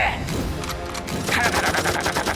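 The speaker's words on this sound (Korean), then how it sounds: "비상! 비상! 전대원 사격 개시!" Rapid bursts of gunfire crackle as an armed crew opens fire in a standoff with an armed patrol ship off Dokdo, loud overlapping shots in quick succession with voices mixed in.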